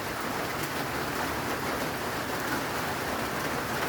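Steady, dense rainfall pours down without pause, a close, even hiss of drops on surfaces with no voices over it.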